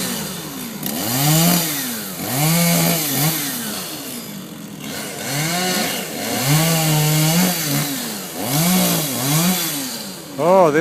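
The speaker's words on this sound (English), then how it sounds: "the valiant man with the chainsaw" A chainsaw cuts through a tree above a pedestrian walkway in Miyajima, Japan, its engine revving up and down in repeated surges, close and loud, with outdoor background noise.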